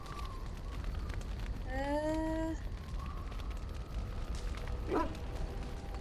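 A dog in the video game Dragon Age gives a drawn-out whining bark, then a short yip follows a few seconds later over a low ambient rumble.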